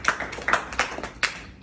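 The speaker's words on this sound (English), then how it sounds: "Clap it up for Marcel, fellas." A group of freshman high school boys claps for a classmate in an empowerment session, a handful of sharp, sparse claps at close range with no talking.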